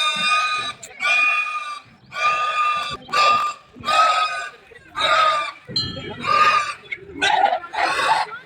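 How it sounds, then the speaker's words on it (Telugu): A pig squeals and screams in loud repeated bursts, roughly one per second, during a sacrifice at the Puradamma Chowdeshwari temple in Hassan district, with faint background murmur between cries. "అమ్మవారికి పంది బలిస్తున్నారు."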